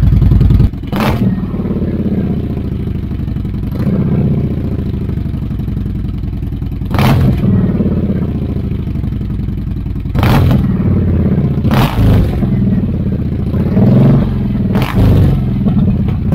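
A 2009 Kawasaki Vulcan 1700 Classic fitted with Cobra slip-on exhausts idles with a deep, steady rumble, broken by several sharp throttle blips that rise and fall, recorded close and loud.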